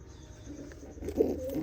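Pigeons coo in a loft where a breeding pair nest with their young, a low throaty rolling coo swelling in the second half over soft background rustle, with no talk.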